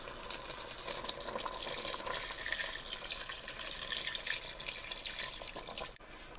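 Stock pours into a pot holding oxtail for soup or stew, a soft, steady splashing stream that stays faint and stops abruptly just before the end.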